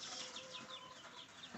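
Hens cluck softly in a quiet, repeated murmur, with a few higher chirps mixed in, fairly faint and close by.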